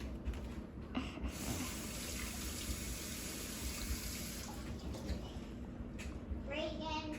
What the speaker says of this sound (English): Go rinse it off in the sink.